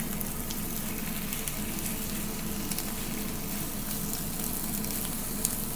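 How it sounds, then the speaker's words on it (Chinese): Chicken pieces sizzle in a wok with garlic and ginger for a braised chicken and tofu-skin dish. The frying crackle is steady and close, with no talking. "咁呢个时候咧，我哋加埋啲鸡落去"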